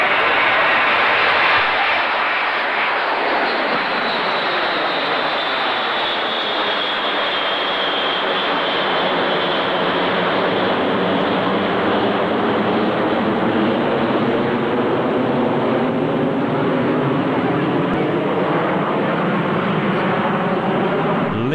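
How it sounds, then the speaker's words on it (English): An airplane takes off in a long, loud, continuous engine roar that swells and then shifts in pitch as it climbs away. "Watch this takeoff carefully."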